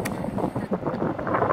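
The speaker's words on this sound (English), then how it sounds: "So, it's definitely getting windy." Wind buffets a microphone on a mountain near Reno ski area, a steady low rumble and gusty roar.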